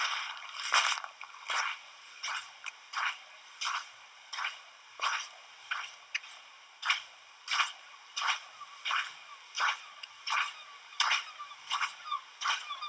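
Footstep sound effect played in Audacity: a steady series of crunchy, evenly paced steps, about two per second, close and dry with no talk.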